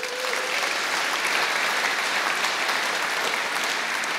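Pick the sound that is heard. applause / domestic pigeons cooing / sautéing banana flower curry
applause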